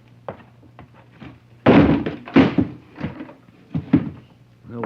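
A door in a radio comedy sound effect bangs and thuds several times, a few loud knocks and slams with softer handling clicks between them, close and alone.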